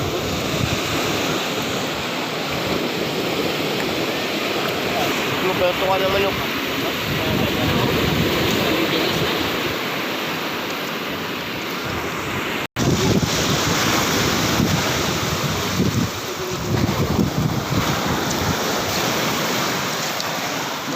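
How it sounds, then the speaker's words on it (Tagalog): Strong sea waves crash and surge during traditional fishing off Brookes Point, Palawan, with heavy wind buffeting the microphone throughout; people talk over the steady roar, and a brief cut interrupts the sound midway. "Kunti lang ang huli, malakas ang alon."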